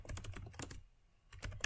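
Fingers type a command on a computer keyboard in a quick run of close, crisp key clicks. A short pause follows, then a few more taps, all fairly quiet with no talking.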